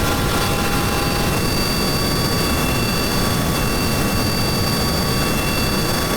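Jet engine with afterburner roaring in Kerbal Space Program: a loud, constant, dense roar with a thin high whine layered on top, steady throughout with no pauses or voices.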